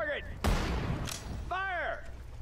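Two short, sharp shots in Sudden Strike 4 during the World War II battle for Iwo Jima, cracking out between clipped unit voices giving orders in the game.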